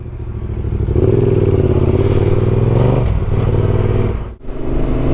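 A black Yamaha T7 adventure motorcycle rides along with a loud, close, continuous engine drone that rises in pitch as it accelerates, then briefly dips and steadies again, with wind rush throughout.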